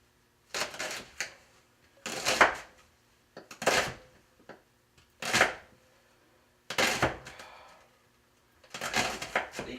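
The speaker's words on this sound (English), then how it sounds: "cutting it in half and then sitting it down and slicing it into small slices" A knife slices a halved leek on a cutting board in about six separate bursts of quick, crisp strokes, each burst followed by a short pause. The strokes are close and moderately loud, with no talking.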